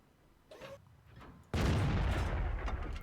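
The KV-5 heavy tank in World of Tanks fires its gun in one sharp, loud boom. It follows a fainter mechanical clunk and then trails off into a long rumbling decay.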